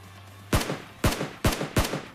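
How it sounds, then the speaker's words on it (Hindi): Four sharp gunshots from the PUBG Mobile game on the Erangel map, spaced unevenly about half a second apart, each a loud broadband crack with a short decay over a faint steady background hum. "पहले तो इसे 2 प्यारे से शॉट देते हैं"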